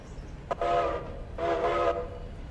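A locomotive in the train game Railroader, heard as a short sharp click followed by two tonal horn-like blasts with a steady low rumble underneath.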